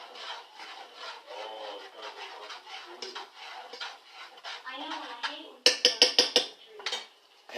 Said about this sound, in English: Go ahead and stir this up a little more.